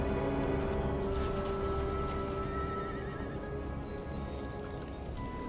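A horse in the game Empire Total War neighs with a long whinny, followed by faint clip-clop and battle ambience, with no talking.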